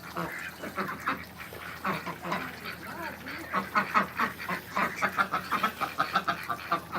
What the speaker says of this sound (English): Mommy duck.